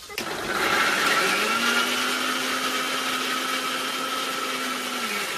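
An electric blender grinds spices in a home kitchen, a loud, steady whirring drone that starts abruptly and holds for several seconds, its motor pitch settling as it runs.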